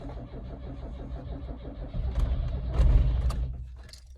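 An MG Maestro Turbo cranks and fires up, a low churning starter rhythm giving way to a louder engine catch and rough idle, close by with a few sharp clicks near the end.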